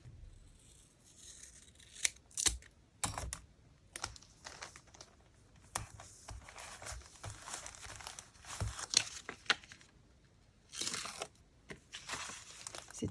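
Double-sided tape being torn and pressed onto plastic for a junk journal: irregular sharp rips, crinkles and tapping handling noises close up, in uneven bursts with short quiet gaps.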